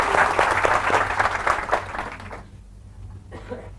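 An audience claps loudly and densely during a motivational sales-training talk, then the applause fades out abruptly partway through, leaving a brief quieter stretch.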